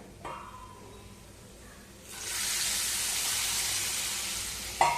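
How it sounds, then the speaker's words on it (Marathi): Hot tempering of oil and spices poured over dal palak, a spinach and lentil dish, bursts into a loud, steady sizzle that starts partway through and holds to the end, with a faint clink at the close. "आपण गरम गरम फोडणी भाजीवरती घालूया"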